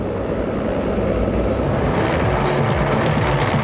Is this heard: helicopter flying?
yes